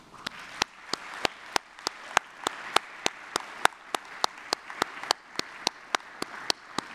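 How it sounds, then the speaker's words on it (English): Clapping at a scholarship awards ceremony for scholars and their sponsors, a steady run of sharp, evenly spaced claps, close and distinct, over a faint background patter of other applause. "please join me in another round of applause for our scholars and their sponsors"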